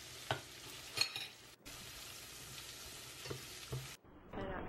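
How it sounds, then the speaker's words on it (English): Spoon stirring ingredients, including oregano and smoked paprika, around a hot frying pan for a chicken dinner, with close scraping strokes and a few sharper clinks over a steady low sizzle. "Stirring all my ingredients in the pan."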